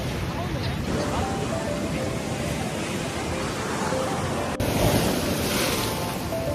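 Steady roar of ocean surf breaking close by on a La Union beach, buffeted by wind noise on the microphone, continuous with a louder surge near the end.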